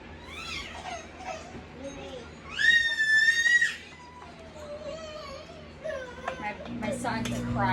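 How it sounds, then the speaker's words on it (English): A young child cries and screams in a kitchen in shrill, rising wails, loudest in one sustained scream midway, with whimpering sobs and background clatter around it. "My son's a crier. He likes to scream and cry all the time about everything."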